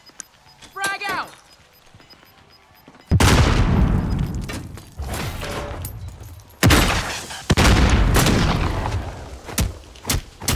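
A frag grenade is thrown and bursts in Call of Duty, with loud booming blasts and gunfire rolling through a chaotic battle scene, and a shouting voice briefly heard early on.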